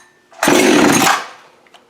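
A Husqvarna 365 chainsaw, a special tuned build, revs loudly in one steady burst of under a second, then drops back and fades toward a quieter idle.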